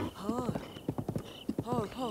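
A horse in Zelda: Breath of the Wild gallops with a quick, rhythmic run of hoof clops. Brief whinny-like vocal calls sound at the start and the end, all at moderate volume.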